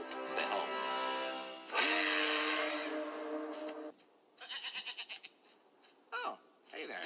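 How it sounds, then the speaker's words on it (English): A goat gives several close, wavering bleats, some long and some short and choppy, in a quiet setting. "Sorry, little goat."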